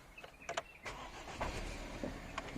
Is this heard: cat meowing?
no